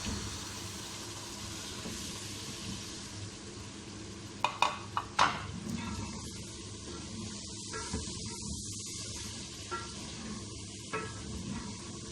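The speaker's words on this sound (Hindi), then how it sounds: "अदरक लहसुन का पेस्ट भी हल्का सा फ्राई हो चुका है। अब इसके अंदर हम ये गोश्त डाल लेते हैं।" Pieces of mutton go into a pot of lightly fried ginger-garlic paste. A quick cluster of clattering knocks is followed by a faint, ongoing sizzle and occasional stirring scrapes, heard close with no talk.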